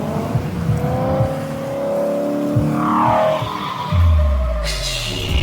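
Engine of a real-life Lightning McQueen replica car, modeled on the animated race car, revving loud and close with rising and falling pitch, a brief tire-squeal-like sweep, and a deep roar surging near the end.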